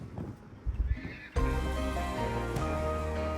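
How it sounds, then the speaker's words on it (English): Several horses in the New Forest neigh and whinny loudly, one close call followed by a sustained, overlapping chorus of whinnies with faint hoof clip-clops. "they all started to neigh"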